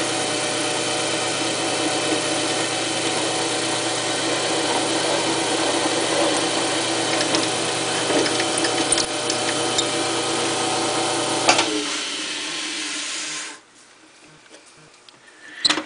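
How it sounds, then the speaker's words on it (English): A steady, loud mechanical whir of a wood lathe drilling a hole in wood, running continuously for several seconds, then cutting off and winding down into quiet. "let's go ahead and drill this hole."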